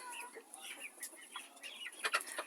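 Young chicks cluck and peep in a small brood, soft quick calls overlapping near the listener, with no talk.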